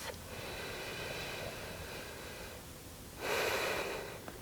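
Slow breathing during a yoga flow, a steady soft airy exhale followed by a louder, brighter breath near the end, close and alone with no talking.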